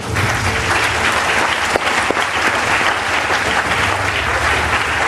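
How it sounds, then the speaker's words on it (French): A hypnosis show audience claps for the volunteers on stage, loud, close and sustained applause with a dense, continuous texture and a few sharper individual claps. "Je crois que, messieurs, dames, vous pouvez les applaudir."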